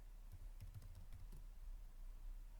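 Close, quiet keystrokes on a computer keyboard while an Excel formula is entered, a short burst of light taps over a low steady hum, no voices.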